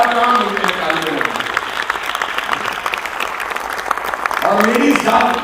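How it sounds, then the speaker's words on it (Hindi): A university audience claps loudly and continuously at a motivational talk, dense sustained applause filling the whole stretch, with a voice speaking over it. "कोई आदमी ऐसा नहीं होना चाहिए जो ताली नहीं बजा रहा है।"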